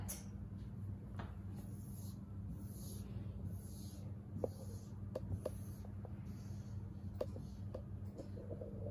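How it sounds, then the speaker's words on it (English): Pen or pencil writing on paper during an online phonics class, faint scratchy strokes and occasional light taps over a quiet steady hum. "we are going to trace and write out the four vocabularies that we have"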